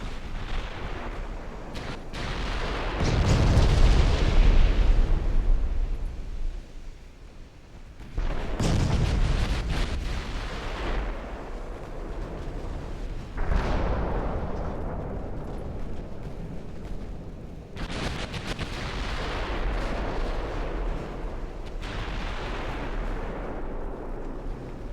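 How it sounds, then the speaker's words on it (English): Heavy 14-inch naval guns firing in a warship video game, deep rolling booms that hit repeatedly and swell into long rumbling blasts amid continuous battle noise. "those 14-inch guns seem to be hitting pretty good"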